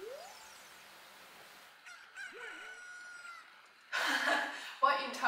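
A chicken in Zelda: Ocarina of Time gives a short squawking cluck, followed by a brief crow-like call, and then voices start talking over the faint game ambience.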